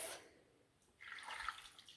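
Water poured into a soup pot of chicken noodle soup with ginger, a steady splashing pour starting midway and running to the end, close and moderately loud with no talking.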